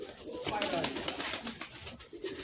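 A male Giribaz pigeon coos softly amid other birds while people talk nearby in the background.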